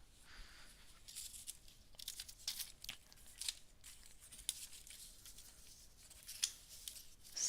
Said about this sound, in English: I wonder if I'm going to cut those feathers out and place them behind her.